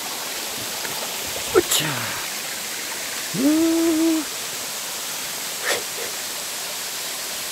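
Steady broadband rush of Anheung Falls near Eunhaesa temple, constant and close throughout, with a brief voiced grunt and a couple of short knocks over the water.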